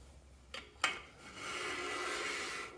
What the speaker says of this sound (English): You can actually hear that carbide bit working.